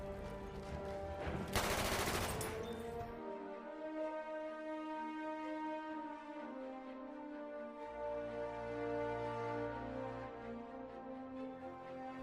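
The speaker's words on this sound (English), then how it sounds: "The Annihilator might be able to blast out a load of bullets quickly" Annihilator submachine gun in Battlefield 1 unleashing a loud, dense rapid-fire burst early on, then fading into a ringing, sustained musical game backdrop with no voices.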